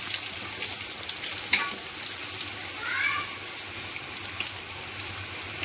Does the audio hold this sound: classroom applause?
no